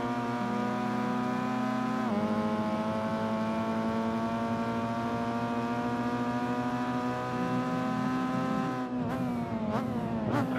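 A Mitsubishi Evo X race car at a track event brakes and then accelerates hard, its engine note dropping sharply, then climbing in a loud, steady pull before tire and chassis noise, with no voices.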